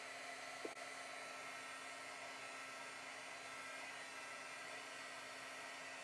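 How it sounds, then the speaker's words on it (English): A heat tool blows steadily as it dries paint on a pumpkin-bloom painting, a faint, even whirring hum that runs without a break and with no talking. "hit it with my heat tool just to give it a quick dry"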